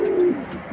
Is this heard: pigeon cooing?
yes